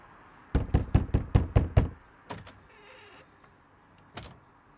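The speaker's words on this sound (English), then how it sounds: "He stops at the door near the end, knocks." Knuckles rap on a door in a quick run of seven sharp, close knocks, followed after a pause by a couple of softer taps and one final knock alone in a quiet room.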